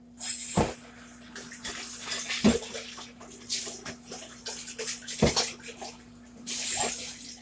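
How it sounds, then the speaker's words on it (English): Running water splashes in a kitchen sink as a jar is rinsed and washed, a steady close rush broken by a few sharp knocks of glass against the basin. "That jar's not going to be big enough, so let's wash this jar."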